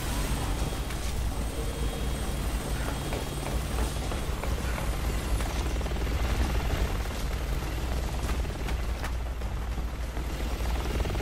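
Attack helicopter in the video game Resident Evil 6, a steady rotor chop and mechanical whir droning continuously at moderate level with no clear breaks.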